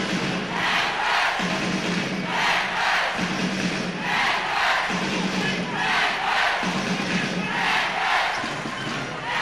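A crowd at a basketball game roars loudly and steadily while the Leopards bench stands cheering, with a voice rising and falling over the noise.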